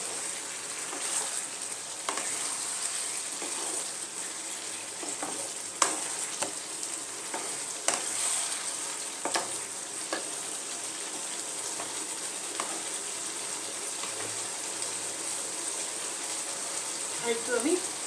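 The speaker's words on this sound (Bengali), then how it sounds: "ভালো মতো কষানো হচ্ছে।" Chicken sautés in a pan over low-medium heat, giving a continuous soft sizzle with occasional stirring clicks and scrapes across the whole stretch.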